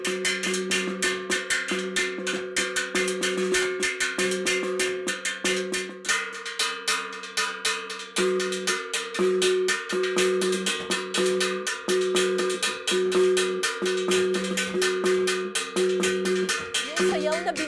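Rhythmic tapping on a bamboo papag platform accompanying a binanog courtship dance that imitates an eagle, a dense run of sharp, loud metallic-sounding clinks over steady tonal music, continuous throughout.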